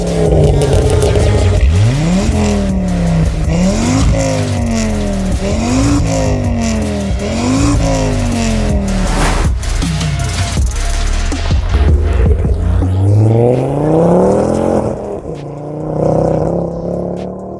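A tuned Mk2 Ford Focus ST, pushing around 300 brake, accelerates hard on the road through repeated gear changes, the engine note climbing and dropping in loud, close rising sweeps with turbo and exhaust noise.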